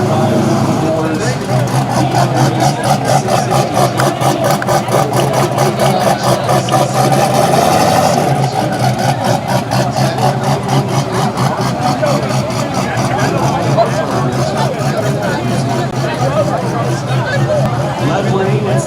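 A 6.0 turbo LS drag car engine idles at a drag strip, a loud, steady rumbling drone under an announcer's voice and crowd noise.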